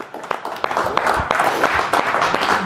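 An audience claps for a singer at a comedy magic show, a dense patter of applause spread evenly across the moment, fairly close and steady.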